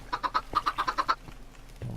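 Chickens cluck in Minecraft in a quick run of about ten clucks, then stop, with a faint low shuffle underneath.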